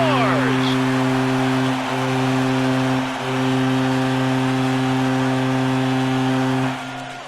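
A loud, sustained low goal horn blares after a score in the hockey video game NHL 14, holding steady for several seconds with brief dips before cutting off, crowd noise beneath.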